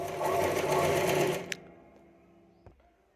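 A sewing machine stitching a V-neck blouse runs fast and steadily for about a second and a half, then stops with a sharp click, followed by a fainter knock.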